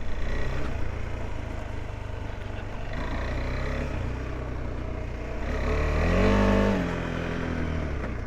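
A KTM adventure motorcycle's engine rumbles steadily, then rises in a short rev as the bike pulls away, recorded close with a wind-buffeted rumble underneath.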